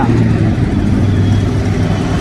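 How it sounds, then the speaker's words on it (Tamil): A steady, loud engine drone with a low rumbling hum, held evenly throughout without clear rises or breaks. "வண்டி சவுண்டு கேட்கணும் வண்டி சவுண்டு"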